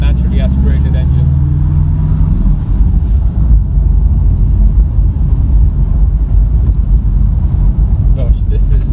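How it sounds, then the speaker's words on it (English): A Porsche 718 Boxster S standing still gives off a deep, throaty engine rumble that runs steadily and loudly throughout, with a rise in low-end roar in the first seconds and occasional faint ticks on top. "the engine is so throaty and it's rumbling"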